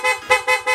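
Loud horn on a Sniper 150 motorcycle, three short close honks in quick succession with brief gaps between them.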